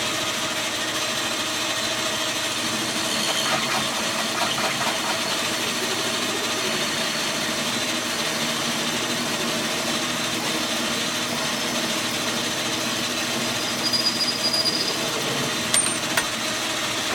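A metal lathe parts off a brass spinner, the motor running with a steady whine and hum and a rough cutting scrape through the whole stretch, close and constant, ending with a few small clinks.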